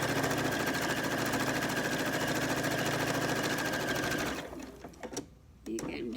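A sewing machine runs in a steady, loud, continuous whir while stitching the last side of a cloth napkin, then stops abruptly near the end, leaving a few faint clicks and handling sounds.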